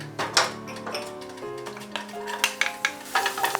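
Chopped garlic sautés in oil in a medium-hot pan for a mushroom stuffing, giving a soft close sizzle punctuated by repeated clicking and scraping stirs, with no one talking.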